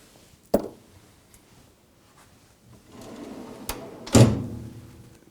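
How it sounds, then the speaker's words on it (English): A bench vise is set back into a drawer in a sample preparation room, giving a sharp knock, a stretch of low rummaging, then a louder thud as the drawer shuts, all close by. "The vise goes back into the drawer where you found it."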